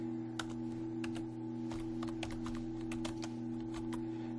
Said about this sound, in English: Again, my typing.